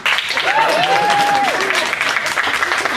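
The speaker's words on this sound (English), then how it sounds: "Why applause?" Dense comedy club audience applause fills the room, steady broadband clapping for the full three seconds, with a brief whoop or whistle rising over it near the start.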